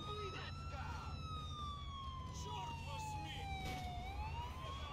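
An ambulance siren in the video game GTA 4 wails in long rising and falling sweeps over a steady rumble of traffic and engine noise.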